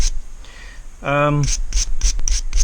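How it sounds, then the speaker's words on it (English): Scraping moss and debris off objects by hand before drilling them. A brief voiced hum comes first, then several short, sharp rubbing strokes follow in quick succession close up. "clean them up a bit and get the moss off and some of the rubbish on one thing or another."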